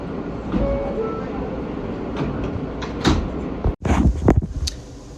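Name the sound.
New York subway M train running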